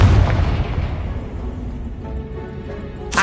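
A Confringo spell explosion in the video game Hogwarts Legacy, one loud deep boom with a long rumbling decay, followed by a short sharp burst at the end.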